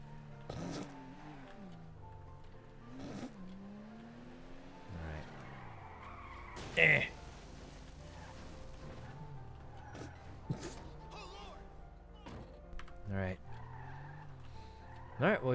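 A video game car drives off with tires skidding and squealing in several separate bursts, engine tones rising and falling, fairly quiet overall.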